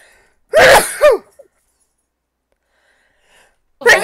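A single loud, close sneeze bursts out, followed by a short gasping snort, then quiet before a brief voiced sound at the end.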